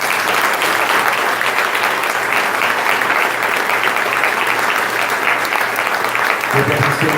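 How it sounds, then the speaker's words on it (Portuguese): A church congregation applauding, dense continuous clapping for about seven seconds, loud and even, with a faint low hum running beneath it. "Aplaudir Jesus."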